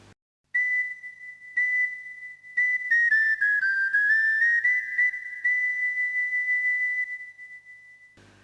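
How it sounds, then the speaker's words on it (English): A bright, sustained pipe-like whistle playing a wavering tune, a few short notes then a long held call that bends and slowly fades, no speech. "that's the sound of the kid's pipe calling for help"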